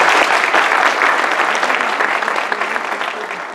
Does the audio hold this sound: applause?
yes